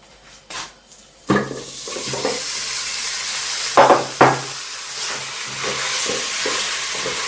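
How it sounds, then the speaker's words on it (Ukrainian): Meat, carrot and onion tossed into a dry frying pan, with loud clattering drops followed by a steady broad sizzle and occasional scraping stirs close by. "Зараз у суху пательню закидатиму м'ясо, моркву, окружу пательну мультиварку м'ясо, моркву і цибульку"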